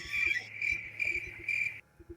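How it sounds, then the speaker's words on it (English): A cricket sound effect played for ambiance: four loud, shrill chirp bursts in a regular rhythm with short gaps between, close and clear, ending abruptly. "Is this because you have a cricket sound effect you want to use?"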